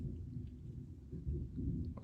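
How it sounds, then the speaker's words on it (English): Low, faint rolling rumble of distant thunder, continuous and muffled, with a slight swell near the end. "I've got some thunder and lightning going on here"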